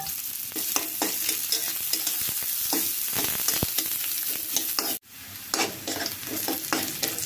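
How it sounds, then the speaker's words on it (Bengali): Onion and garlic fry in oil in a wok, a steady crackling sizzle with scraping stir strokes, briefly cut off near the end before the frying noise returns. "পেঁয়াজ আর রসুন একসাথে এখন কিছুটা ভেজে নিব।"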